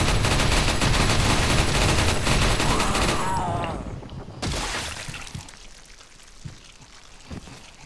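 Rapid bursts of loud gunfire in Resident Evil 4 rattle for several seconds, then fade into scattered single shots and softer game sounds.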